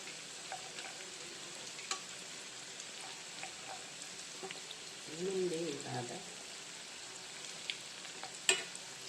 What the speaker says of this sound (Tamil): அதனால் பொறுமையாக ஃப்ரை பண்ணி எடுத்துக்கலாம்